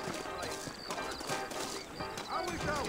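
Horses in the western video game Red Dead Redemption clip-clop along in quick uneven hoofbeats, a horse whinnies near the end, and someone talks over them.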